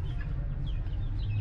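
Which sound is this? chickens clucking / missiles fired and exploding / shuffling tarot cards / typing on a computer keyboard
chickens clucking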